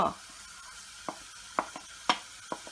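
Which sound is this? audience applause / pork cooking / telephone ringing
pork cooking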